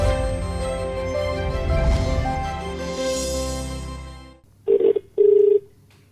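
A telephone rings for an incoming caller on a radio call-in show. Two loud, clear, close electronic rings follow right after music fades out.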